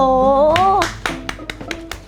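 Following a brief voice, about six separate hand claps ring out one by one in an uneven rhythm, close and crisp, with quiet gaps between them.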